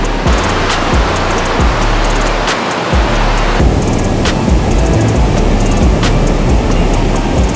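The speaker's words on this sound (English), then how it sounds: "These waves are no joke" Surf breaking on a hot black sand beach in El Salvador, loud broadband roar with a sharp shift midway, accompanied by rhythmic low thumps and wind-buffeted microphone noise; no talking.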